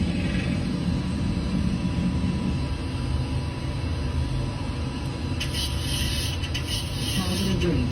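Boeing 737-800NG climbing out just after rotation, a steady broadband engine and airflow roar filling the cabin at constant loudness, with faint higher hiss and rattles joining toward the end.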